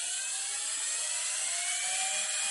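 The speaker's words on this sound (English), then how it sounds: "Very quiet motor, because there's nothing rubbing, there's no brushes, it's just bearings on there." A brushless induction motor spins freely at about 100 Hz on its bearings, giving a smooth, quiet, high-pitched whir with steady tones and no rubbing noise, alone and close.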